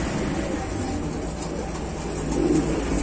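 Pigeons coo softly inside a crowded pigeon-selling shop, the low murmuring steady under someone talking throughout, with a slightly louder coo near the end.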